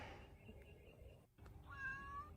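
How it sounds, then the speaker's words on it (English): Single drawn-out meow from a cat, fairly close and clear, rising and bending in pitch over about a second, with muffled background noise and no talking. "it's a cat"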